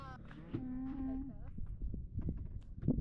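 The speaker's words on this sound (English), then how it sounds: "There's a bunch of cows back there too. And he just mooed at me." A cow moos once, long and low, fairly close, on a hiking trail in Utah, followed by scattered rustling and a few soft voices.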